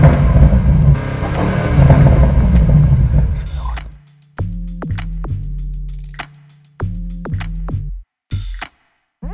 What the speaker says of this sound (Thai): และนี่ก็คือเสียงเครื่องยนต์นะครับความดุดันของ M8 Competition Coupe คันนี้ครับ